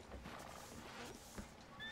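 A horse whinnies briefly amid faint outdoor noise and hoof clops, fairly quiet and somewhat distant.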